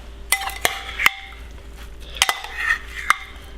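A spoon stirring ingredients in a pan with olive oil and wilting arugula, sharp metallic clinks and scrapes coming in small clusters over a faint low sizzle.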